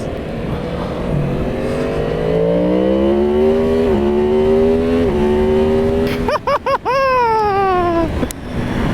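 A 2022 Yamaha MT-10 motorcycle engine on track, revs climbing steadily through the gears while leaning into a corner, then sharp throttle cuts and rapid rising and falling revs, loud and close under wind.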